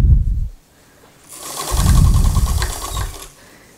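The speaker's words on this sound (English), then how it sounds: "I'm going to run another seam about 1/8 of an inch or so, maybe even less, just inside my first one" A sewing machine runs a second seam about 1/8 inch inside the first on a Simplicity 8910 dress, a steady mechanical whir with rapid stitching chatter that starts, carries for about two seconds at close range, then stops.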